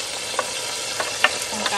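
Onion goes into a pan of meat cooking for a Calabrese-style pizzaiola, and a dense, loud sizzle fills the short stretch, marked by a few sharp crackles and pops.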